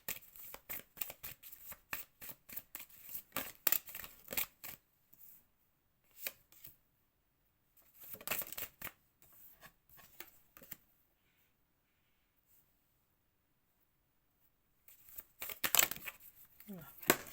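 Playing cards being shuffled and drawn by hand in bursts of quick riffling clicks, pausing between rounds, close and fairly faint, with a few quiet gaps and light handling noise.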